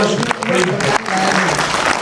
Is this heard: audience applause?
yes